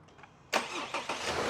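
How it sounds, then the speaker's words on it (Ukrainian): A 2024 Subaru Outback engine cranks briefly, then catches and rumbles steadily, close by and fairly loud. "давай заведемо його в прямому ефірі разом з вами"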